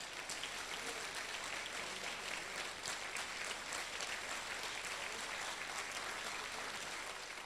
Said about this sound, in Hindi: ऐसे परम संत का एक बार सब हाथ उठाएं और 10 सेकंड तक ताली बजे लगातार